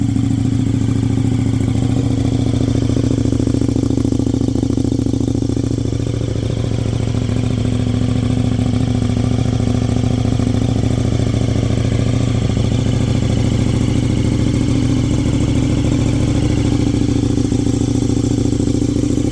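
A 2022 KTM 1290 Super Duke R Evo fitted with an Austin Racing exhaust idles as it warms up, giving a loud, steady, deep rumble that holds without a break for the whole stretch, with no talking.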